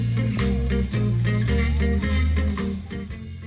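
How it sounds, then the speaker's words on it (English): Live music plays at an outdoor barbecue, blues and brews festival, with steady bass and a rhythmic beat that stays loud and continuous throughout. "You can hear the music in the background."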